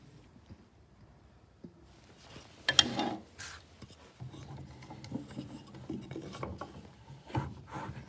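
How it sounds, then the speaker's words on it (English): A wooden piece being set into a woodworking vise: quiet scattered knocks and wood rubbing, a louder scraping burst midway, then soft irregular handling and mechanism sounds. "I would now suggest putting this into the vise"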